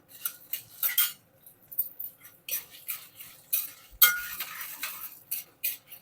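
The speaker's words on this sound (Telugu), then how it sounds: "ఇట్లా చక్కగా వేయించుకోండి బంగారు రంగు వచ్చేంత వరకు వేపుకోవాలన్నమాట" Dried red chillies are fried and stirred in a pan for pulihora paste, with close, irregular metallic scrapes and clinks of a spoon against the vessel over a faint sizzle, and no voices.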